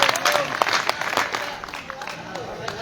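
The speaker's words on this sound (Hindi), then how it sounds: "एक बार दोनों हाथ उठाकर जोरदार तालियां भाई मुनि प्रताप के सम्मान में आपकी बजाय" Enthusiastic audience applause at a Hindi patriotic poetry gathering in Chhatarpur, dense clapping that is loud at first and then eases slightly, with crowd voices mixed in.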